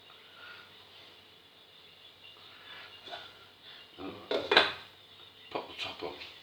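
A metal lid is set onto a cooking pot of chicken fillets with shallots, a couple of sharp clanks near the middle after quieter kitchen clatter, close and fairly loud.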